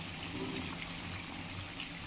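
A steady, faint stream of water pours into a simmering mushroom and green pea curry, a continuous low wash with no clear breaks.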